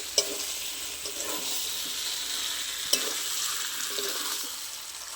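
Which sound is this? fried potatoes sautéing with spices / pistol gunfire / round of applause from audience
fried potatoes sautéing with spices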